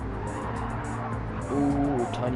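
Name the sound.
race car tires squealing as it slides sideways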